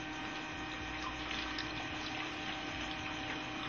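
Distilled water pours into a cell in a steady, close, continuous trickling wash that runs evenly with no talk.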